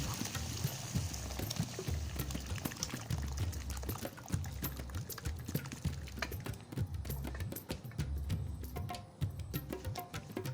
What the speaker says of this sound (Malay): Sekarang kita masukkan dal yang dimasak tadi.